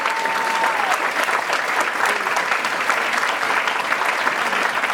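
A comedy festival crowd applauds a comedian after his set, with loud, dense, continuous clapping filling the room and a brief tone sounding near the start.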